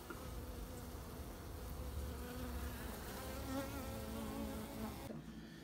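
Italian honeybees swarm around an opened backyard hive, a dense steady buzzing close by, loud and continuous until it cuts off sharply near the end.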